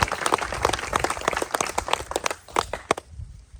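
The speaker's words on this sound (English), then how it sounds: "If we clap loud enough, maybe they can hear us in Sacramento." A small outdoor crowd at a creek bridge event claps in scattered, uneven bursts, moderately close, the applause thinning out and stopping near the end.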